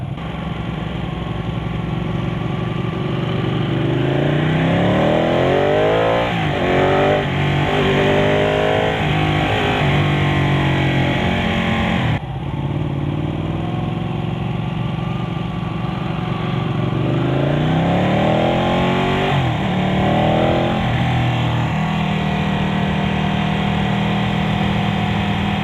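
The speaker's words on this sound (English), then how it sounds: "approaching the end of the demo ride for this Ducati 899 Panigale." A 2015 Ducati 899 Panigale engine drones steadily on a test ride, its pitch sweeping up through the gears in two acceleration runs with a short break between, loud and continuous.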